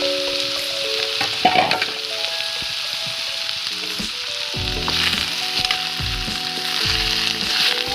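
Eel fish curry fries in a pan with a steady, dense sizzle throughout, broken by a few louder spatters and stirring knocks, with no one speaking.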